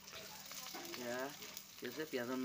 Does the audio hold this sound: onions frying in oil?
yes